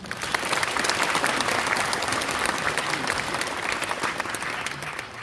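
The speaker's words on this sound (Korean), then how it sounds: "가장 큰 박수 부탁드립니다." A large audience at a neighborhood redevelopment briefing session bursts into loud, sustained applause, many hands clapping densely and evenly with a faint murmur of crowd beneath.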